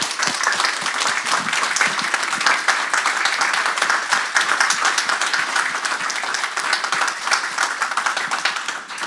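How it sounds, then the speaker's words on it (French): Sustained applause from an audience at a talk, a dense, steady wash of many hands clapping close and loud throughout, with no voices over it. "puis on l'applaudit encore."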